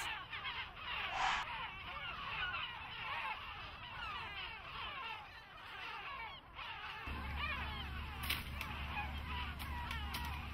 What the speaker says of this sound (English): Here comes a black-backed gull to check her eggs.